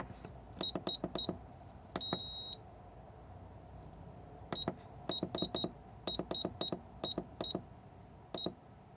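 Short electronic beeps from the control panel inside an Auto-Sleeper Broadway FB motorhome sound in quick irregular bursts, like button presses, with pauses between groups.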